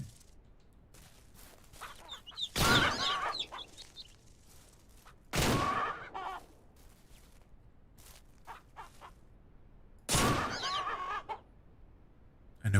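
Video-game chickens on a Ranch Simulator farm let out three loud bursts of clucking and squawking, spaced several seconds apart, with sparse small clicks and a faint background between them.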